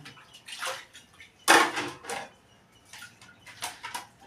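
Things being washed and rinsed by hand in basins of water at home: intermittent sloshes and splashes, one louder plunge near the middle, set against quiet pauses.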